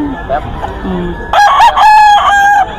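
A rooster, one of the gamefowl kept at a farm, crows loudly and close by in a single long call from about the midpoint onward, preceded by faint clucks and background noise.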